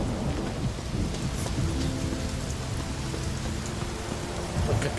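Steady, loud rainfall pours through the whole stretch in The Witcher 3, set in Skellige, with deep thunder rumbling low underneath; no voices break through the storm.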